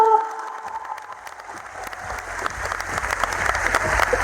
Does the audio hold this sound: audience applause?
yes